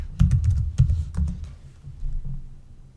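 Short burst of typing on a computer keyboard, a quick cluster of close clicking keystrokes that slows and fades out within a few seconds.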